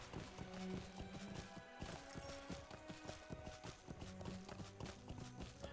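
Horse hooves in the video game Lord of the Rings Online, a quick clip-clop rhythm of a mount moving steadily over ground, faint and even throughout, with soft game background sounds around it.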